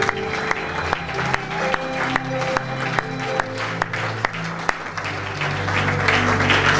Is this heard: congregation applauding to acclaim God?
yes